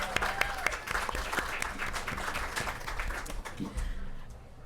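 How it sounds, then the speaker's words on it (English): Warm applause from an audience at a health equity film screening and meal, a steady patter of many hands clapping with a few louder individual claps, tapering off near the end. "if we could just give them a round of applause"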